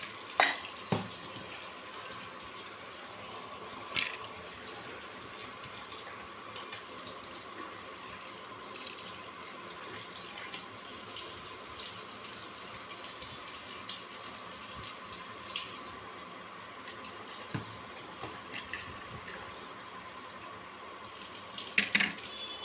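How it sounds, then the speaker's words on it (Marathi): Urad dal rinsed under running water in a kitchen bowl for dahi vada, a steady close trickle and splash with occasional clinks and stirs, no talking. "आता हे धुवून याच्यामध्ये अर्धा तास भिजायला ठेवायचे"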